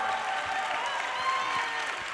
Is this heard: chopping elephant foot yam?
no